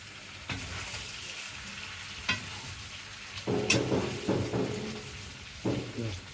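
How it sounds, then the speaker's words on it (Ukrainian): Onions fry in a pan with pork fat, giving a steady sizzle broken by several louder bursts of stirring and scraping at close range. "дай будемо вже кидати цибульку. Там котопиться, красота."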